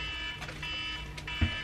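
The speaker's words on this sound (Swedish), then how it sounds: "Och nu går ett larm." An alarm goes off somewhere nearby, a steady tonal electronic wail holding throughout with a brief thump near the end.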